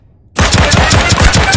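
Rapid automatic gunfire from the video game Deceive Inc. bursts in loud and close after a moment of silence, a dense run of shots continuing to the end.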